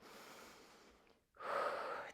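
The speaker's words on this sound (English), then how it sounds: "Deep breathing here" Slow, deep breaths during a Pilates wall workout: a soft, long airy breath, a short pause, then a louder rushing exhale, close and clear with no talking over it.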